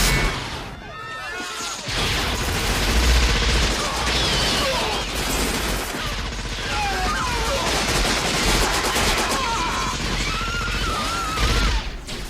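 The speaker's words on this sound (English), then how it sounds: "a big old minigun, which he used against RoboCop" A minigun firing in a RoboCop 2 film scene, a dense, sustained roar of rapid gunfire with crashes and booms mixed in, loud throughout with voices faintly under it.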